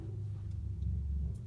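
Cars pass outside on a street, heard as a low, muffled rumble that swells briefly and fades, faint and distant.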